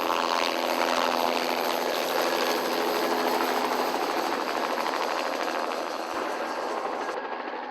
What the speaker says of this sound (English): A helicopter is often the only way acres of bracken can be easily sprayed.